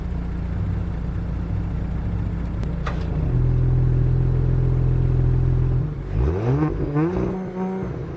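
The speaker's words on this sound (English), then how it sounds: "if you want to hear the difference in exhaust" A 2022 Audi S4 engine idles with a low rumble, then revs up with a deep, throaty exhaust note that rises and falls as it accelerates.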